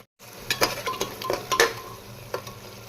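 Onion and ginger-garlic paste with spices frying for a soybean and potato curry, a steady sizzle broken by repeated scraping stirs of a utensil against the pan.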